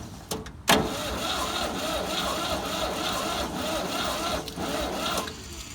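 Ford 2000 tractor engine cranking over with the starter, a steady rhythmic churning that runs for about five seconds after a short click, close and fairly loud, without talk.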